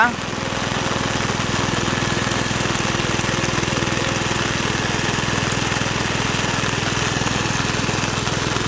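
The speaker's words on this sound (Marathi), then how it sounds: "रविराजने ट्रॅक्टरची लाईट सुरू केलेली आहे" A tractor engine idles close by with a steady, rhythmic diesel chug that holds constant throughout, during heavy rain at rice planting in Devgad, Sindhudurg.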